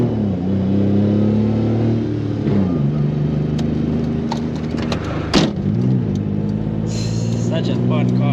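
A Suzuki Mighty Boy, a small front-wheel-drive pickup with a mechanical fault, drives on a road with its engine droning and shifting pitch through gear changes, with a brief clunk midway and road noise throughout.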